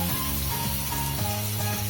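Chopped tomato added to lightly fried, salted onions sizzles steadily in a pan for prawn malai curry, a continuous close frying hiss under background music.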